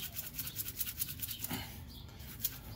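An old motorcycle battery with salt added to its electrolyte is shaken, giving a faint, rhythmic swishing and sloshing of liquid inside the case, repeated in quick regular strokes.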